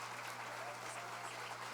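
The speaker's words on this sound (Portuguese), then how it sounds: "Dá um aplauso a Jesus" Church congregation applauding, a faint, even patter of many hands clapping with a low steady hum behind it.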